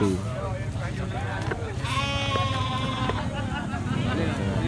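Fat-tailed sheep bleat at a busy goat market, with a few wavering calls rising over a steady crowd murmur and nearby chatter.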